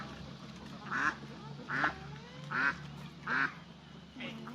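Ducks quack in a farm setting, five loud nasal calls spaced about a second apart over low background noise and faint distant talk.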